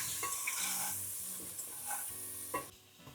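Shahi biryani masala and homemade garam masala stirred into a sizzling mushroom biryani mixture in a pan, soft frying hiss under repeated spoon scrapes and a few light metal clinks, with no talking.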